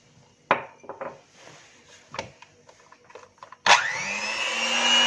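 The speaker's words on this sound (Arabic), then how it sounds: "هنضربهم بقى لحد ما السكر يدوب كله مع الزيت" Sugar and oil being beaten together in a bowl: a few scattered clinks and scrapes, then a sudden loud, steady mechanical whirring that continues to the end.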